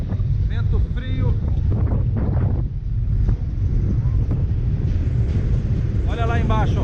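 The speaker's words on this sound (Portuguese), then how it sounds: "Vento frio aqui, hein? Vento frio." Cold wind buffets the microphone on a ferry deck at sea, a steady loud rush that fills the whole span while someone talks over it.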